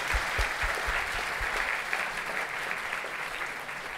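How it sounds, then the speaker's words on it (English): A conference audience at a Ruby programming talk applauds, a dense wash of clapping with a few louder nearby claps at the start, then holding steady and slowly easing off. "A fresh round of applause"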